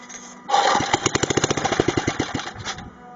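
A rebuilt rototiller engine salvaged from a landfill fires up and runs in a rapid, steady putter of close, loud pulses, then tapers off near the end.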